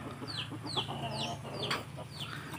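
Chickens cluck and squawk in a sharp, repeated series during a duck-versus-chicken fight beneath a raised house, the calls fairly close and loud over a low steady background.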